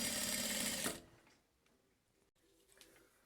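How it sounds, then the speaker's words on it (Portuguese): Sewing machine stitching fabric for a key-chain wallet, a loud, rapid mechanical whirring run lasting under a second, then stopping, followed by quiet faint clicks and handling noises. "Vou costurando. Vou fazer isso nas 2 partes."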